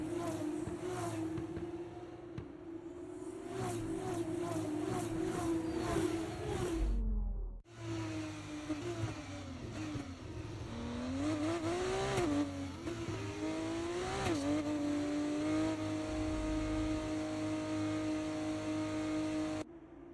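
Formula 2 race car engines on a formation lap in the F1 24 game at Silverstone: a continuous high engine drone whose revs rise and fall. It cuts out briefly near the middle, then resumes steady and fairly loud.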